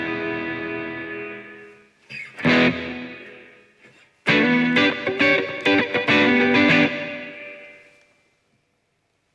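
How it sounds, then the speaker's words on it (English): A guitar played through a JBL Bandbox Solo amp with reverb, short distorted chords and notes ringing out and decaying into a reverberant tail, with a brief pause between phrases and no talking. "reverb, which you control like this"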